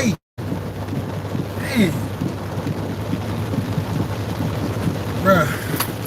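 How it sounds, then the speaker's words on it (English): Steady rain falls outdoors as a continuous broadband wash, with someone speaking briefly over it and a few short vocal sounds; the rain stays even and close throughout. "it's gonna rain all over me today"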